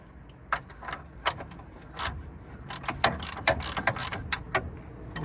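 A jack is worked under a GMC S-15 pickup, its close metallic ratchet clicking in quick, uneven bursts of strokes with no talking.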